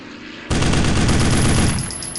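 Aircraft guns rattle in a dense, loud burst of rapid fire for about a second at a submarine in the Silent Hunter III naval game, then trail off quickly.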